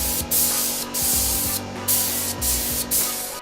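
An aerosol can sprays white paint onto a fiberglass sculpture leg in five short, close, loud hissing bursts with brief pauses between them.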